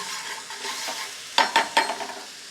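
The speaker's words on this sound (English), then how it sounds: "with the liquid, you should be able to scrape it clean from the bottom of the pan" Liquid deglazing a roasting pan while a utensil scrapes browned fond from the bottom, giving a steady sizzle with three or four sharp scraping strokes near the end, close and fairly loud, with no talking.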